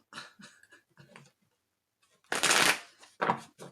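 Tarot cards are handled with a few soft taps, then riffled in a loud, close shuffle lasting under a second, followed by another short flurry of card noise.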